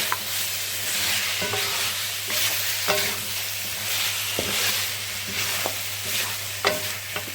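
Whole cumin seeds fry in a karahi for Karachi-style mutton karahi, giving a steady sizzle broken by scraping stir strokes and small clicks of the spoon against the metal pan.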